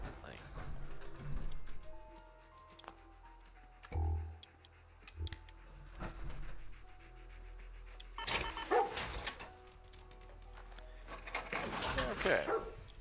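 A dog companion in a post-apocalyptic video game gives a few short barks and soft whimpers between ticking interface clicks and scattered game sounds, faint and intermittent.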